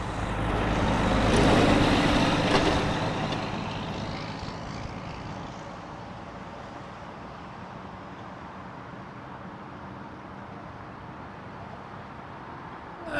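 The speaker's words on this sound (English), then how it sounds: "clear for takeoff runway 23" An airliner takes off from runway 23 at Toronto Pearson Airport, a loud roaring engine rumble that peaks early then gradually fades as the plane climbs away into the distance, heard alone without speech.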